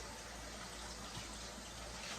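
Hot tap water runs steadily while turkey necks are rinsed clean, a faint continuous hiss and splash of flowing water with no talk.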